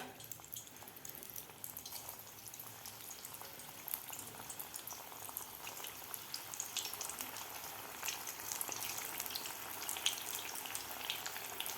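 Puffed rice pakoras deep frying in hot oil, a steady broadband sizzle and bubbling crackle that holds evenly throughout at moderate level, with no voices.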